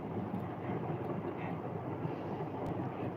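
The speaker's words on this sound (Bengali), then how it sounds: "ট্রেন যাচ্ছে জালনা দিয়ে দেখতে পাচ্ছি আমি বাড়ির পাশ দিয়ে ট্রেন যাচ্ছে" A steady low rumble holds for about three seconds as a train passes beside a house, heard through a window at a distance, even and unbroken, with no voices.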